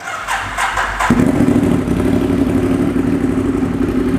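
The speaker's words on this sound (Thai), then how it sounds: "คันนี้มาพร้อมท่อแต่งทรง SC Project ครับปาเป็นคาร์บอนแท้เราฟังเสียงท่อ คันนี้กัน" A 2016 Ducati Monster 821 fitted with a carbon SC Project exhaust fires up about a second in, then holds a loud, close, steady idle with a deep rumble throughout.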